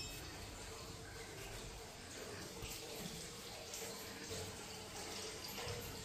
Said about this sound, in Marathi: पाणी चालूच असतं.